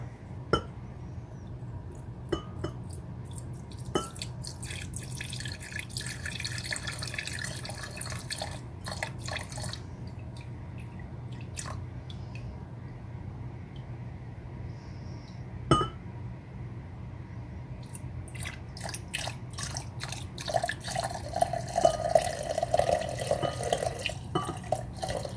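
Digestive bitter liquid trickles and drips as it is poured into a glass container, with soft clinks of glass scattered through a long, steady pour and a brief gurgling stream near the end.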